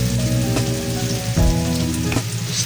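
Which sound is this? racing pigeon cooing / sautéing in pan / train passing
sautéing in pan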